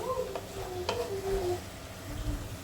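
Fried coconut, sugar and paneer stirred in a pan: a soft sizzle under scraping and clinking of a spoon against the pan, with a few sharper knocks, close and fairly quiet.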